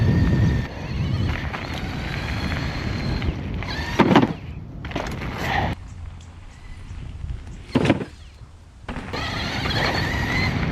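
A bike rolls onto a Jigsaw Jumps kicker ramp, with two sharp clunks a few seconds apart over continuous rolling and rushing noise.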